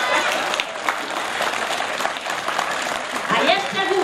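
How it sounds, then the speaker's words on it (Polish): An audience applauds at the 2012 Dzierzkowice harvest festival wreath presentation, steady clapping from a crowd that swells toward the end, with voices mixed in. "pewnie brawo bić będziecie"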